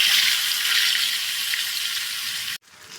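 Fish frying in hot oil in a wok for a Malaysian-style fish fry, a steady loud bright sizzle that cuts off abruptly near the end before resuming more quietly.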